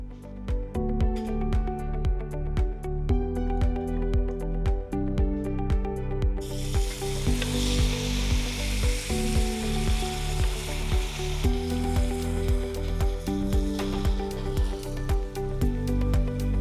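Cooked vegetables from a pressure cooker go into a pan of spices and turmeric for Kerala koottu curry, then sizzle and are stirred. A bright hiss swells midway over steady tonal music and rhythmic scraping.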